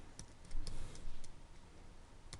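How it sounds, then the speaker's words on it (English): Keys tapped on a computer keyboard while entering text in design software: a handful of quiet, scattered clicks in an irregular rhythm, close by and faint against a low background hum. "let's type conjugal bliss"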